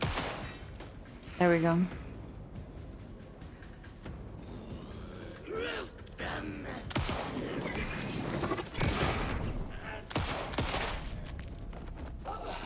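Gunfire at shadowy enemies in the horror game Alan Wake II, with bursts of shots, whooshes and mechanical clatter spread across the passage and someone talking at times.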